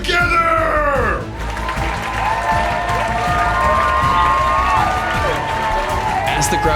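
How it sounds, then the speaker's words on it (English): A loud crowd cheers and whoops in a Minecraft game, a dense roar of excited voices with falling whistle-like tones at the start and continuous shouting throughout. "As the crowd cheered us on,"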